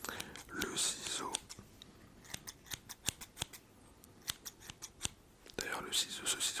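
Metal scissors snip repeatedly at close range in a quiet ASMR setting, a string of short crisp cuts spaced irregularly through the middle, with soft whispering at the start and end.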